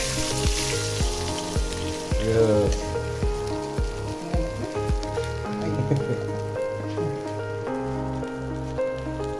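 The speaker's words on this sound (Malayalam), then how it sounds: "ഇപ്പോൾ ഈ അരി വറുത്തെടുക്കുമ്പോൾ" Rice frying in a pan while a biryani is being made, giving a steady close sizzle and crackle that runs through the whole stretch with repeated scraping and stirring knocks.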